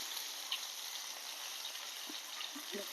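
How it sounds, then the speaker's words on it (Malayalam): Potatoes dropped into hot oil in a pan for a Kerala-style potato stir-fry, giving a steady close sizzle with a few soft plops near the end. "എന്നിട്ട് ഉരുളക്കിഴങ്ങ് ഇട്ട് കൊടുക്കാം."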